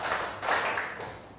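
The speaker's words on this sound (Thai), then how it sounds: "กลุ่มที่1ปรบมือ3ครั้ง" A group of students claps hands in unison during a classroom recreation activity, a few sharp, close claps in quick succession with no talking.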